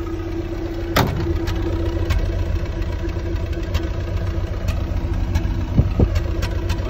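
A Land Rover Series 3 engine idles steadily with the bonnet open, a low, even rumble close by with a few sharp knocks and clicks over it, with no one talking.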